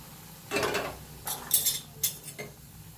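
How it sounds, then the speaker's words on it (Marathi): A spatula scrapes and knocks against a pan while mixing semolina and flour with hot ghee for jaggery-peanut karanji dough, a few short clattering strokes close up. "पहिलं उलटण्यानं मिक्स करून घ्या"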